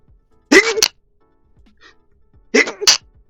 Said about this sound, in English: Sorry about the sneezes.